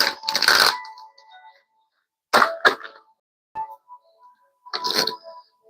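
Tarot cards being shuffled in a few separate bursts of riffling and flapping, close and fairly loud, with quiet pauses between them.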